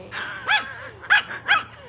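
A dog barks three times in quick succession, sharp yips at close range against a quiet, low hum.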